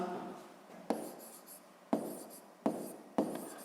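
A pen writes on paper in short scratchy strokes, with four distinct bursts each opening with a tap and trailing off into a soft scrape; quiet and close, no voices.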